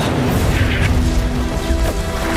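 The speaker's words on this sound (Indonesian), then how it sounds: "Di tengah desingan peluru dan dentuman bom" Heavy booming blasts and crashes from bombs exploding in a war film, dense and loud, rolling continuously with overlapping impacts for a couple of seconds.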